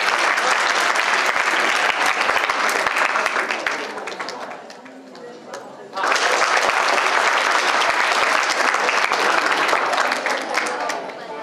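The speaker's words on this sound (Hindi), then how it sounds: "प्रतियोगिता के दौरान सभी भक्त प्रतिभागियों की प्रस्तुति पर तालियां बजाकर अपने हर्ष को व्यक्त कर रहे थे" Devotees applaud children's performances at a Mahavir Jayanti celebration in Kesli, Sagar, Madhya Pradesh, with loud sustained crowd clapping that dips briefly midway and then surges back to full strength.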